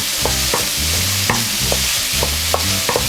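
Ginger is stir-fried quickly in a hot wok, with rhythmic metallic scraping strokes over a steady sizzle, close and clear with no voices.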